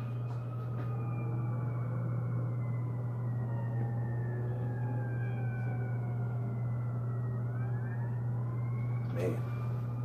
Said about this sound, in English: There goes another ambulance up there.